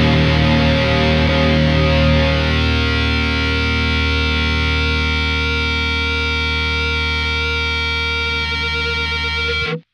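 An electric guitar goes through a Freqout feedback pedal on a Royal Blood-style rig, producing one loud, sustained, saturated note that swells into steady howling feedback and cuts off abruptly near the end.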